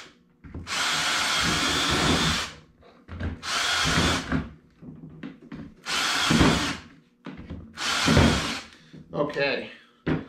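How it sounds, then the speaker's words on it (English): Power drill boring bolt holes while building a portable fish finder, running in four long bursts of a few seconds each with short pauses between them, loud and close, with faint talk in the gaps. "we can drill the rest of the holes, put the bolts in"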